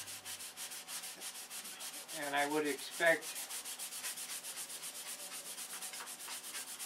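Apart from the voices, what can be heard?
sanding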